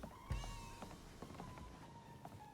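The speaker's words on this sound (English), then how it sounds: "Yes, that was the cat, not a child." A cat meows in the South of Midnight video game, one clear short call near the start followed by fainter mewing sounds over soft game ambience.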